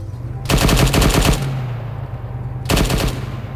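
Two bursts of rapid automatic gunfire in the ArmA 3 military shooter, the first lasting about a second and the second shorter, loud and close with a low hum lingering between them.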